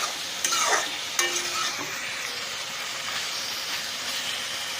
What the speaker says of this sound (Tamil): நல்லா மிக்ஸ் பண்ணிவிட்டு ஃப்ரை பண்ணிக்கலாம்.